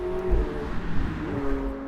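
McLaren 750S supercar engine being revved while stationary, a throaty roar with a rising and falling pitch across a couple of quick blips, close and loud with no talking.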